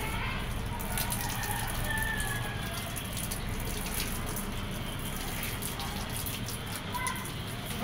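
Water flows under strong pressure from a rooftop tank where carpets are being washed, a steady rushing gush that carries on throughout while a person speaks over it.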